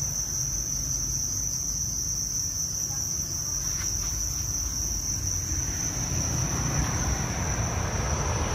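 Crickets kept in breeding boxes at a cricket farm chirp continuously, a dense, steady high-pitched trill that holds throughout over a faint low background rumble, with no voices.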